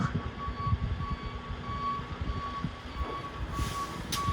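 A pickup truck with its differential locked works across a snowy driveway, its low engine rumble churning under a steady, repeating electronic reversing beep, with no talking.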